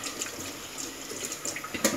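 Water runs from a tap into a kitchen sink while smoked mackerel is washed. It makes a faint, steady trickle with small splashes and clinks, and no talk can be heard.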